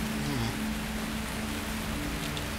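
Steady, dense rain falling in a video game, a continuous loud wash of noise with a low droning hum underneath, unbroken throughout.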